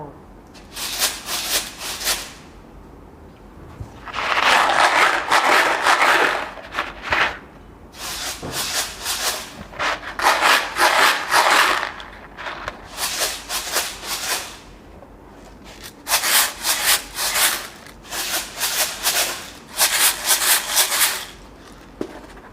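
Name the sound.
Montessori sound shaker boxes being shaken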